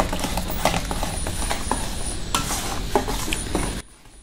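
Mustard oil sizzles in a pan while egg pitha is made, a continuous frying hiss broken by clinks and scrapes of a utensil against the pan, which stops abruptly near the end.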